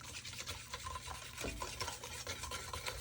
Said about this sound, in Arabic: أنا أحب أستخدم زيت زيتون، حليب بودرة، بيكنج باودر، وشوي رشة ملح، ونخلطهم